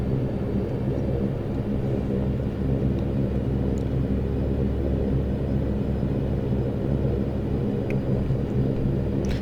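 A Saab 340 turboprop taxiing in the X-Plane 11 flight simulator, a steady, deep engine rumble with a constant whirring drone, even and sustained with no voices.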